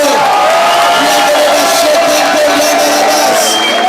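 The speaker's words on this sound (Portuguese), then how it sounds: "Aplauda o nome do Senhor" A church congregation at a Bola de Neve service applauding, a loud, sustained wash of crowd noise with cheering and voices blended into the continuous clapping.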